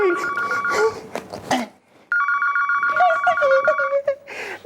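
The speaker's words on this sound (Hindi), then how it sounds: "शायद लप्पी का फोन है।" A telephone rings in repeated electronic bursts, loud and near, with people talking over and between the rings.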